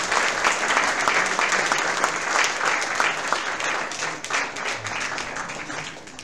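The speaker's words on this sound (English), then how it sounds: "A big round of applause, ladies and gentlemen" A hall audience at a felicitation ceremony held by the Ahmedabad South Indian Association applauds warmly, a sustained mass of clapping that stays full for several seconds and eases slightly toward the end, with no one speaking over it.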